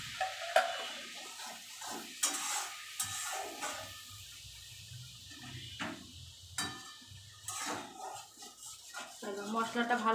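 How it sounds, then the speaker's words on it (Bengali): Spices for soybean kofta frying and being stirred in a pan, with scraping stir strokes and soft sizzling in bursts, close by and fairly loud, under intermittent talk. "মশলাটা ভালো করে কষাই, দেখতে থাকো।"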